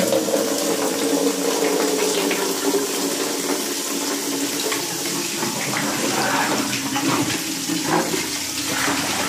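Water pours from a tap into a bucket, a continuous splashing rush that stays steady and fairly loud throughout.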